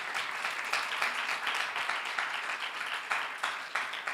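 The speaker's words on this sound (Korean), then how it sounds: "우리 다시 한번 박수 드리겠습니다" A church congregation at a Friday worship service gives a round of applause. The clapping is steady and moderately loud, with fairly even rhythmic bursts throughout.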